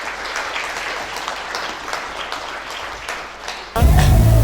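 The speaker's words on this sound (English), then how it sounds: "I think a round of applause for Harold would be most appropriate" An audience applauding Dr Harold Gunatillake at a felicitation event, sustained dense clapping at moderate distance that tapers slightly before a sudden loud low rumble cuts in at the end.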